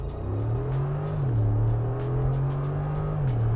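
A Mercedes G-Class V8 with side-exit exhaust pipes rumbles steadily from inside the cabin, a deep throbbing drone that rises and falls slightly as the engine revs shift.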